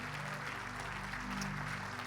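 A congregation at a Korean church retirement and ordination thanksgiving service claps steadily with a soft wash of hands over a low hum, continuous and at moderate distance throughout.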